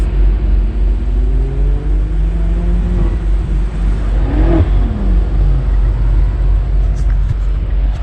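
BMW cars run hot laps on a driving school track, a loud steady engine roar with rising and falling revs as cars pass near, constant rumble throughout.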